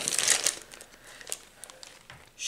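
A plastic bag of pencils crinkles as it is opened, crisp, close rustling in irregular bursts that are loudest at the start and swell again at the end.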